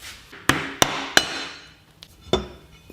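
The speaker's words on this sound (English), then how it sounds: "you can stick a screwdriver in there, give it a nice little tap, and it'll pop out" A hammer taps a screwdriver four times to pop a part out during a performance cam install on an Indian Thunderstroke 116 motorcycle engine, each sharp metallic strike ringing briefly, close by, with quiet between hits.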